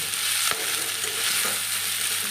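Onions frying in a pan for capsicum egg fried rice, a steady close sizzle with stirring and a couple of brief clinks of the utensil against the pan.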